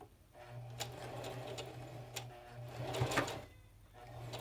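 Sewing machine stitching back and forth on a fabric headband, a steady close mechanical whir with a faint rhythmic ticking of the needle, running alone with a brief louder burst near the end.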